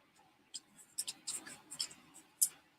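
Scissors snip away excess paper while making a faux wax tag, a handful of short, crisp cuts spread across the moment, close and fairly quiet.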